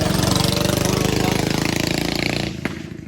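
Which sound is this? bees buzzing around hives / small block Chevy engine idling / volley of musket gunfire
small block Chevy engine idling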